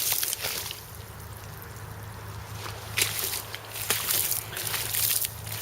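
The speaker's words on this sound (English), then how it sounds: "Now I am ankle deep in water." Someone wading ankle deep through floodwater and slush in a flooded backyard, with soft sloshing and splashing steps over a steady outdoor background.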